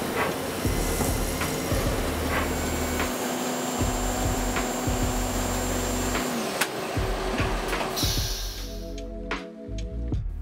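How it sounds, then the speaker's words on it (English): A CNC mill machining a doweling jig attachment runs as a steady, loud broadband whir with a sustained tone that shifts pitch partway, then drops into a quieter stepped hum near the end. "the doweling jig attachment is machined at another CNC mill"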